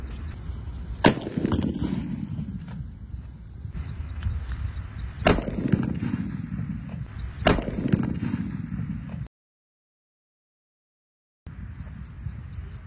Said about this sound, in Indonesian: Sambil menunggu buka puasa, kita menyalakan mercon guys.